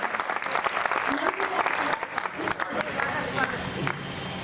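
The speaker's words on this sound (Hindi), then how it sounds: "एक बार मुझे आगे से पीछे तक के लोग तालियां बजाकर अनुमति दीजिए" Audience applause at a Hindi kavi sammelan poetry gathering in Gondia, a dense, steady wash of many hands clapping that fills the whole stretch, with a murmur of voices mixed underneath.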